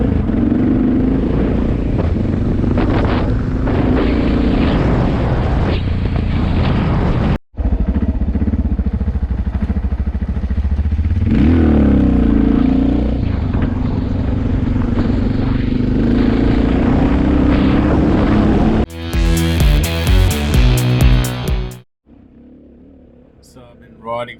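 A Suzuki adventure motorcycle climbs steep tracks in the Victorian High Country, its engine droning and revving close up through most of the stretch, with wind buffeting and a rider talking over it before a brief quieter end.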